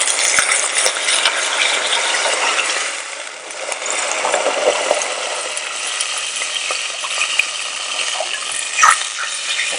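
Water is poured into a pan of light golden-brown fried onions for a mutton and spinach dish, giving a loud, continuous sizzle and rushing hiss that dips briefly midway and then carries on.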